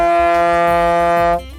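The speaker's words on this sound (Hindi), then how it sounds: "यह बोट की आवाज है।" A boat horn sounds one long, steady, loud blast with a rich harmonic tone, cutting off abruptly near the end.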